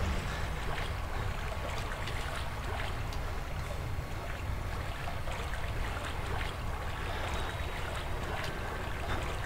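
Footsteps slosh through water in the sewers of the video game Outlast, a continuous loud splashing and churning that fills the space with no one speaking.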